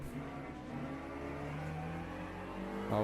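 A Ferrari race car in Le Mans Ultimate runs at speed on track, its engine a sustained, steady mid-pitched drone with faint tonal harmonics, held at a constant distance and moderate level throughout.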